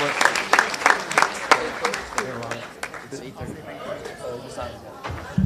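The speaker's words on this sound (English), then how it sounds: "let's give them all one big round of applause." A school audience at an international day event claps for the backstage crew, scattered sharp claps over chatter and voices, the clapping thinning out as talk continues.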